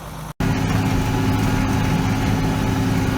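A farm tractor engine, warmed up, runs steadily and loudly at close range with a constant low rumble, cut by one brief dropout near the start; no voices.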